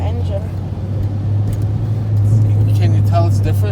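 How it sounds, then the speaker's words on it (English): A 1984 Pontiac Fiero with its engine in the back, heard from inside the cabin as a steady low engine drone that swells slightly partway through, with people talking over it. "It's a 1984 Pontiac Fiero."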